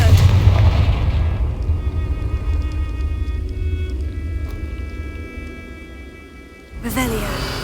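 A Confringo fire spell explodes in Hogwarts Legacy, a deep rumbling boom that rolls and fades over several seconds under ringing tones, then a fresh burst of sound near the end.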